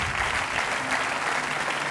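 Studio audience on a French TV game show breaks into steady, dense applause, a continuous wash of clapping from many hands that holds evenly throughout.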